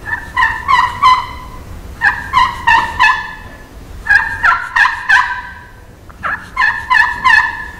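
A wild turkey call imitating a young bird's kee-kee: high, thin whistled notes in quick bursts of three or four, separated by short pauses, loud and close.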